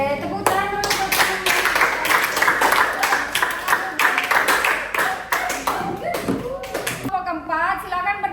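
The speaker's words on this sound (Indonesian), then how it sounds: "tepuk tangan dulu untuk" A classroom of high school students claps for a group, with brisk, dense hand claps fairly close, and voices talking and calling out under and after the clapping.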